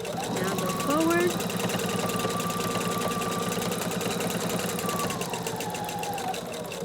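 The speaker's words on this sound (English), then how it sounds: "I know I can keep sewing straight." A sewing machine stitching fabric coasters runs in a steady, fast mechanical patter close by and continues throughout while someone talks over it.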